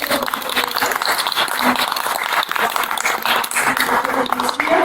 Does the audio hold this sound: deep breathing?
no